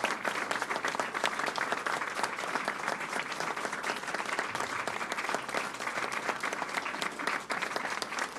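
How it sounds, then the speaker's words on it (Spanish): Sustained audience applause at a municipal election closing rally in Chile, a dense steady wash of many hands clapping throughout at even loudness, with no speech over it. "un aplauso por todas estas candidatas y candidatos"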